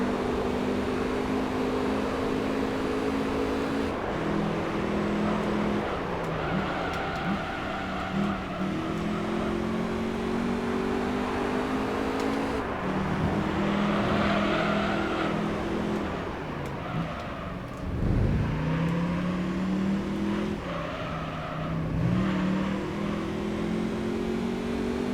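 Race car engine in the Gran Turismo 3 video game, revving continuously at high pitch with repeated rises and sudden drops as gears shift and the throttle eases, loud and steady throughout.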